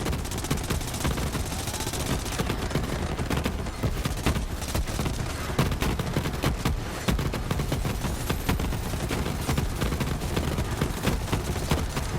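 Continuous rapid gunfire from the Kaoson, a non-shock submachine gun in Borderlands 3, firing at a boss: a dense, loud, unbroken stream of shots with no pauses.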